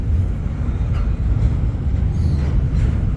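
A long CSX intermodal freight train with a DPU rolls past nearby in a loud, continuous low rumble of wheels and cars on the rails, steady throughout.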